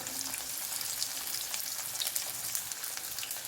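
Garlic, ginger, green chili and squared onion pieces cooking gently in a hot pan, a constant close, bright sizzle with crackling bursts throughout and no voices.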